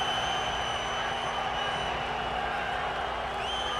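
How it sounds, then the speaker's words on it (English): A dense, steady roar of a large Swiss crowd cheering and welcoming boxer Muhammad Ali, continuous and loud without clear breaks. "getting a tremendous welcome from the Swiss crowd"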